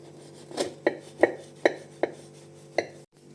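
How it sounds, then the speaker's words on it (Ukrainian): A knife cuts through a carrot cake on a board, six sharp chopping thuds in an uneven rhythm, close and clear with a quiet pause between strokes. "тепер нарізаємо наш кекс"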